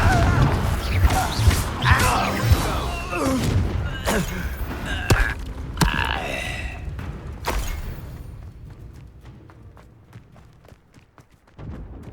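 Confringo blasting spells go off in Hogwarts Legacy, a dense run of booming explosions and crashing impacts mixed with battle noise, loud at first and fading toward the end.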